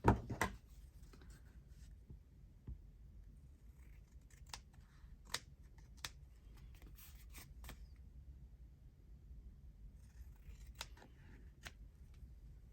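Scissors trim a paper page in a craft setting, making a series of faint, sharp snips and clicks spaced irregularly over quiet room tone, close by, with no voices.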